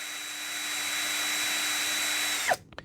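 A Ryoku power drill spins a drill bit with a steady, close, whining motor hum that holds level for a couple of seconds, then winds down and stops abruptly.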